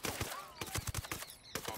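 Gunfire in the open-world tactical shooter Ghost Recon: Wildlands, heard as a quick run of sharp, fairly quiet shots in uneven bursts over under two seconds, with a voice faintly talking between them.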